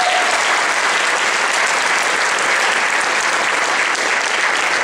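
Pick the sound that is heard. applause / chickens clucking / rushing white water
applause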